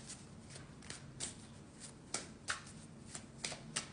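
Tarot cards are shuffled and drawn close up, with soft riffling and flicking and sharper snaps as single cards are pulled, quiet and with no talk.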